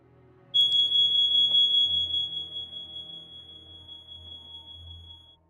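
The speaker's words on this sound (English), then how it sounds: "There's an alarm going off in the background." An alarm sounds in the background as a single sustained high-pitched electronic tone that starts suddenly and holds steady, loud at first and then fading slightly while it keeps going alone.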